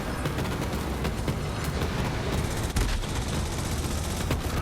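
Kaoson submachine gun in Borderlands 3 firing in a sustained rapid stream, dense and loud throughout, with a few sharper bursts and no talking.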